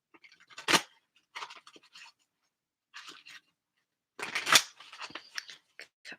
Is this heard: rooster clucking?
no